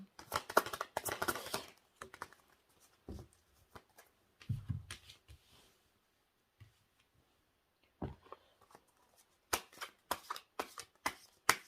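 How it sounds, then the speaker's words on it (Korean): Tarot cards being shuffled and drawn during a monthly reading, heard as bursts of crisp riffling and flicking, close and alone, separated by quiet pauses with sharp taps as cards are laid down. "추가 카드 한 장만 뽑을게요."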